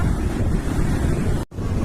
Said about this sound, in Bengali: তো ঢেউও চলে এসছে